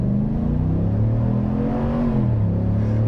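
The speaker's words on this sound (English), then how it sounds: "I'll start this off with a quick little 0 to 60 time here." A 2025 GMC Sierra 1500 AT4 pickup in sport mode and automatic four-wheel drive, active exhaust open, accelerates from a standstill toward sixty, its engine note climbing steadily through a gear with a brief dip, heard from inside the cab.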